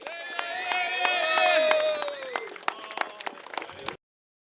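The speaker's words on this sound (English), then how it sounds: "I want you all to welcome him with a resounding round of applause" A crowd of union workers at a refinery protest applauds and cheers to welcome their president general, a loud burst of clapping and shouts that thins to scattered claps before cutting off.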